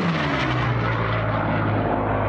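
Propeller racing plane Voodoo making a low-level record pass over a ranch south of Challis, Idaho, a loud, sustained roaring engine drone with a slowly falling pitch as it sweeps past close by.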